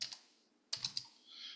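Keys clack on a Bluetooth keyboard paired with a tablet: a couple of light taps, a pause, then a quick cluster of three crisp keystrokes, close and quiet.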